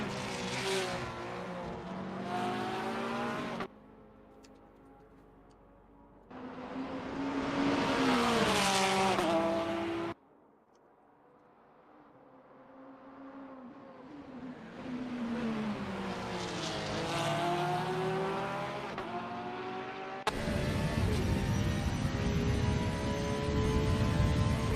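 Race cars in a TAC DTM race at Istanbul Park roar past one after another, engines rising and falling in pitch through gear changes as they approach and pass close by, with abrupt cuts between loud passes and quieter stretches.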